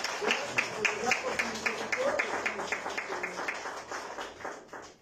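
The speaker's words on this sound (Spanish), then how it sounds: "¿Cuántos le dan un aplauso al Señor?" A church congregation applauds during a Sunday service, a dense run of rhythmic clapping that swells early and slowly fades out, with a voice speaking briefly over it.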